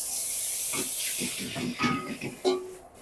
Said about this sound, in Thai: การยิงซีอิ๊วขาวเนี่ย ให้ยิงลงขอบกระทะแบบนี้จ้ะ